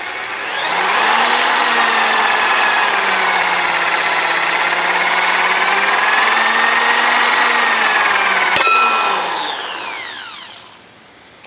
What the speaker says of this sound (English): Let's go ahead and try and make a pilot hole.